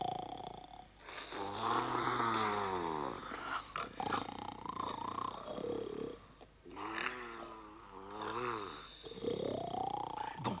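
Heavy, exaggerated snoring from a person, voiced and growling, in long wavering breaths that rise and fall over several cycles, loud and close throughout.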